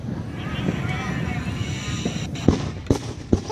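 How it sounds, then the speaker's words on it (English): Fourth of July fireworks in Menasha crack and thud in a few sharp bursts over a steady rush of wind and crowd noise outdoors, with a voice talking faintly under it. "I'm watching double fireworks here."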